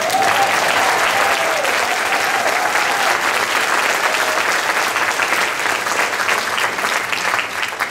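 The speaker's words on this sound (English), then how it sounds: "Clap again for Wendy, will you?" An audience at a jazz festival gospel set claps for Wendy in sustained, dense applause that stays loud throughout, with a few faint voices mixed in.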